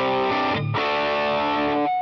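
Stratocaster electric guitar strummed in rhythm through a Helix modeler set to a Vox edge-of-breakup tone, a steady mildly overdriven chord with one brief break in the middle, close and alone.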